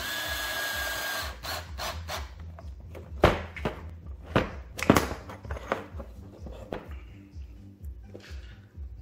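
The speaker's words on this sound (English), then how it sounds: "which as you can see is pretty easy and quick, especially when you have the little drill." Short bursts of a small power drill driving screws into a Traxxas X-Maxx RC truck suspension kit, several quick runs with clicks and handling noises between them, close by.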